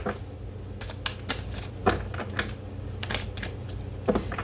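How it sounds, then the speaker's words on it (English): Large tarot cards are shuffled by hand in a quiet room, giving a run of soft papery riffles and light irregular taps, close and fairly faint over a low background hum. "Let's do a good shuffle here."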